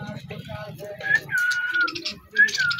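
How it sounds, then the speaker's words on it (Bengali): Lotan pigeons cooing at a village lakeside fair, soft low coos and warbling calls repeating near the listener, with other birds chirping and people talking in the background. "ওই পায়রা, লোটন পায়রা"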